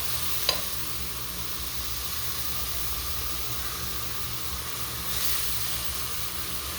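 Onions frying in a pan, a steady, even sizzle hissing throughout, with one brief sharp clink of a utensil near the start and the hiss swelling slightly toward the end.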